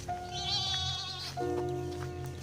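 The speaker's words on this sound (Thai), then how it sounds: "แพะครับ" Goats bleat loudly at close range on a farm, two drawn-out wavering calls one after the other over faint background noise.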